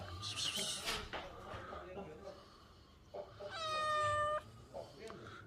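A cat on a farm meows in a long, drawn-out cry near the end, with a shorter mew earlier, while a person talks nearby over faint background noise.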